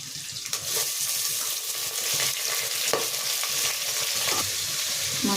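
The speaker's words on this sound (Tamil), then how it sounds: "வெங்காயம் வணங்கிட்டு இருக்கு" Small onions, garlic and curry leaves sizzling in oil with popped mustard seeds for a home-style salmon fish curry, a steady close crackle and hiss with occasional stirring clinks.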